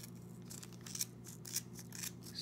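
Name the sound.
scissors cutting yarn on a Clover pom pom maker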